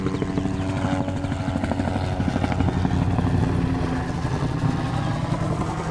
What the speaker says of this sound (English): And there goes one of our helicopters, actually.